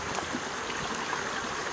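River water rushes steadily through dense overgrown terrain, a continuous broadband flowing wash with small gurgles, close and unbroken with no voices.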